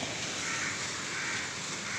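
Crows cawing faintly in repeated calls, partly buried under a constant hiss of falling rain.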